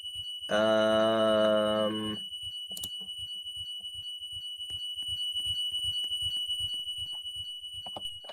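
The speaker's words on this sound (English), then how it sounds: "the alarm is still going off even after the bus is shut down" A bus alarm keeps up a steady high electronic tone with the engine shut down, while a loud harsh horn-like blast sounds briefly near the start and faint rhythmic ticking and clicks run underneath.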